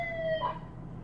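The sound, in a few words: boy playing with a toy siren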